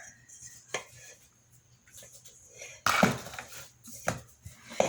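Gingerbread cake batter stirred in a bowl, a utensil scraping and clinking against the bowl in scattered bursts, louder clattering near the middle and end, close and without talk.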